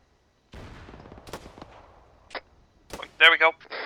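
Gunfire at anti-aircraft guns and vehicles in Arma 3, scattered sharp shots with a decaying tail after an initial burst, then louder cracks near the end, with a voice calling out among them.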